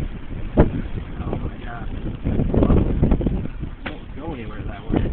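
Strong gusty wind blows during a tornado watch, buffeting the microphone in rough low-pitched bursts, with excited voices shouting over it.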